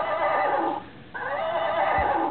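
A toy pony lets out an electronic neigh, a whinny with a rising pitch that breaks off briefly and then carries on. It sounds close and fairly loud, with no talking over it.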